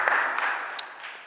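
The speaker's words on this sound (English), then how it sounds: "I think that deserves a round of applause" Scattered clapping from a council committee meeting audience, a broad hiss of hands that starts strong and slowly thins out over a second or so.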